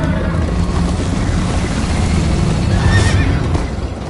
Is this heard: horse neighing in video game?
yes